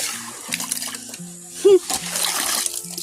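Water gushing and splashing from a hand water pump being worked outdoors, short bursts of splashing under people talking nearby.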